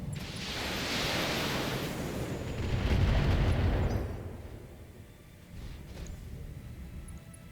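LRM indirect fire explosions in Battletech rumble as a sustained, loud roar of distant blasts that swell in the middle and then ease into a lower, continuing rumble.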